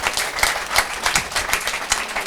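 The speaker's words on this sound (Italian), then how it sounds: "Voglio sperare che l'applauso sia per Narducius de Cavallicco, ovviamente" Audience applause at a theatrical performance in Friulian and Italian, a steady patter of many hands clapping at close range throughout, with brief louder bursts of individual claps.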